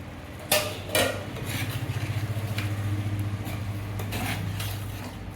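Metal lid lifted off a cooking pot of pepper chicken gravy with two sharp clanks, followed by a steady rumbling simmer and bubbling that continues beneath faint kitchen clatter.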